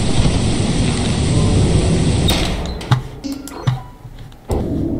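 In the Lethal Company video game, a loud, sustained thunder rumble rolls through a storm for over two seconds, then fades into sharper, scattered cracks and thuds, with no talking.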